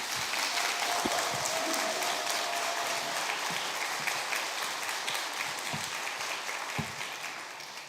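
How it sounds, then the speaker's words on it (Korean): Congregation at a Korean presbyterian church's Sunday service in Detroit applauds to welcome a guest revival preacher: dense, steady clapping from many hands filling the sanctuary, tapering slightly toward the end, with no talk over it. "우리 부흥 강사님 나오실 때 한번 힘차게 격려의 박수로 맞이하겠습니다"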